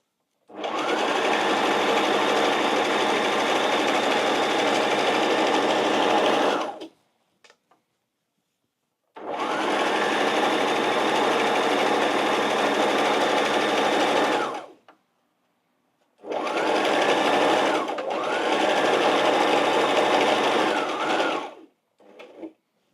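A sewing machine stitching saree fabric runs in three long bursts of fast, steady whirring, each several seconds long and separated by short pauses, loud and close with no talk.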